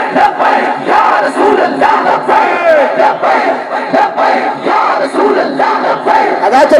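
Large crowd at the Tehreek-e-Labbaik sit-in at Faizabad, Pakistan, chanting Labbaik in loud, rolling, repeated shouts from many voices, dense and continuous.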